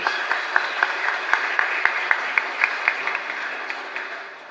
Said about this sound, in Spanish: Fuerte aplauso para todos ustedes